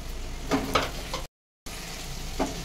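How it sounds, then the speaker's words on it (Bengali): Sliced onion and green chilli frying in a pan, a faint sizzle with a few spoon scrapes, cut off by a brief gap of silence before the quiet frying resumes. "পেঁয়াজ আর কাঁচা লঙ্কাটাও ভালোভাবে ভেজে নেবো।"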